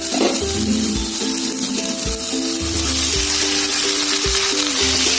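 Chicken meat fries in a pan for Bengali-style masala chicken, a loud, constant close-up sizzle and crackle that runs unbroken for several seconds.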